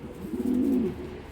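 A racing pigeon coos once, a low soft rolling call close by, rising and fading over about a second with no voices.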